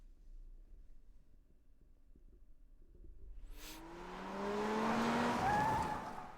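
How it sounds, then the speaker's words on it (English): A car in the video game AI: The Somnium Files swings into a power slide, engine roar building after a quiet stretch into a loud sustained tire squeal with rising whine, alone without talk. "Power slide."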